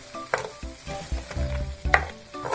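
Mexican-style white rice with chicken bouillon sizzles in a hot pan while being stirred, with a close crackling hiss broken by scraping strokes of the spoon and no voices.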